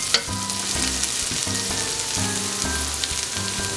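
Swiss chard stems and half-softened onions fry in a pan after about fifteen minutes of cooking, a steady close sizzle punctuated by a few scraping stirs and a low background hum.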